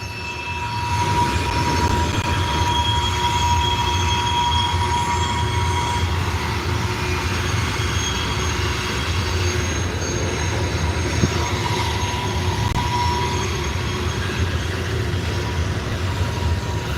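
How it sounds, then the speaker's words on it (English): A loud train rolls past nearby on a street in a Cincinnati neighbourhood, a steady heavy rumble with squealing wheels and metallic tones that continues throughout without letting up. "Can't talk about a thing because we got the loud train."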